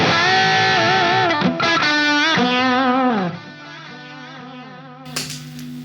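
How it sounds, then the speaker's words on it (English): Electric guitar played through a Quad Cortex with delay and distortion, loud sustained distorted notes bending and sliding, then trailing into echoing repeats before a sharp new attack near the end. "So now I add the delay, add the distortion, and I already have, if I want, a sound for playing solos."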